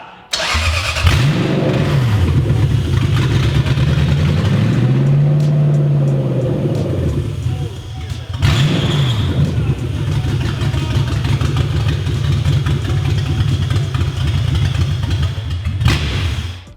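A Lexus 3UZ V8 engine swapped into a Lexus IS300 cranks and fires up, revving a couple of times before settling into a loud, steady, rumbling idle.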